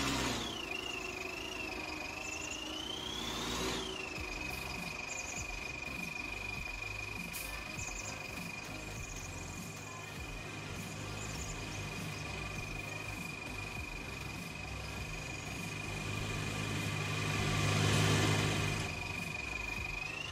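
A tractor engine idles steadily in the farming game Farming Simulator 19, a constant mid-range drone with a sustained whine, with faint insect-like chirping in the background and a slight swell near the end.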